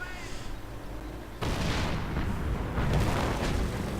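A Sherman tank takes a hit in a WWII strategy video game, heard as a sudden heavy boom followed by sustained rumbling battle noise and explosions.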